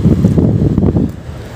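Wind buffeting a microphone at the seashore, with a broad low rumble that could be surf, loud and steady before easing toward the end; no voices.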